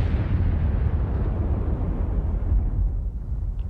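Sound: explosion sound effect

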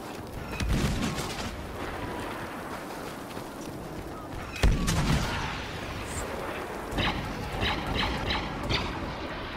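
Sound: cannon firing in a video game

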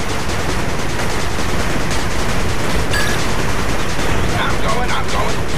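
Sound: units firing guns in the video game 8-Bit Armies

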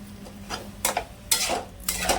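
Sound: stirring and sautéing potatoes and peas in spices

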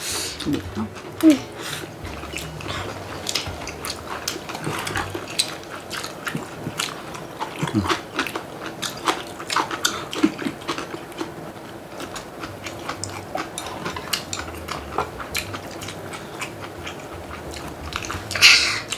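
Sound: chewing mung bean pancake

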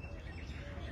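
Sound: crows calling on Indian coral tree

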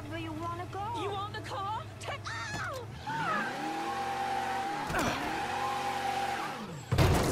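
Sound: car slowly accelerating in video game Mafia III

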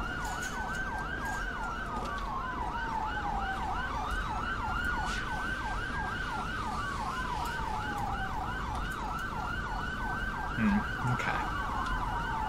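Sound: police siren in video game

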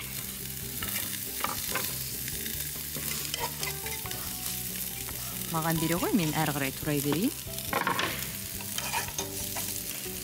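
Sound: onions frying in a hot pan

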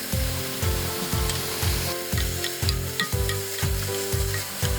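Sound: pork stir-frying with fish sauce in pan

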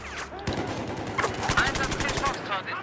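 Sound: gunshots in video game Battlefield 4

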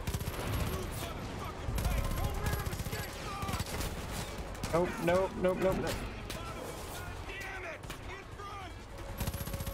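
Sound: gunfire in the video game Far Cry 5

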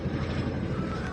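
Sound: helicopter flying overhead

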